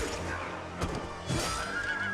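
A horse whinnies in a short burst over a busy, noisy background, with thuds and clatter around it, in Rings of Power season 2 episode 7.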